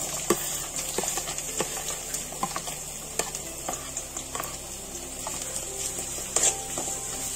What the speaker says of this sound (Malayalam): ഇതേ നമ്മുടെ എണ്ണ ചൂടായുണ്ട്, അതിലേക്ക് നമുക്ക് അരിഞ്ഞു വെച്ചിട്ടുള്ള വെളുത്തുള്ളി ചേർത്ത് കൊടുക്കാം.